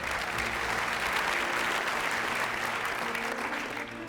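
A crowd at a talent show applauds a band, loud, dense and continuous clapping that holds evenly for the full length and eases slightly at the close.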